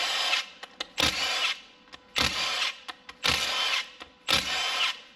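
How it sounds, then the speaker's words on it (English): A power tool drives out 10mm bolts from a power steering pump casing during a teardown, in four or five loud whirring bursts, each a second or so long, with short clicks and pauses between them, close up and without speech. "we're going to go ahead and remove these 10mm bolts to expose the casing"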